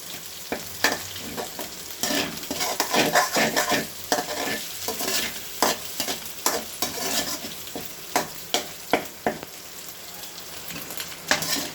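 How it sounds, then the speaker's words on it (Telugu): Eggs being stirred and fried in a pan for egg rice, with steady sizzling and repeated scraping strokes of a spatula, clear and close with no talk. "తిప్పిన తర్వాత కొంచెంగా కలుపుకుంటూ ఎగ్స్ని ఫ్రై చేసుకోవాలి"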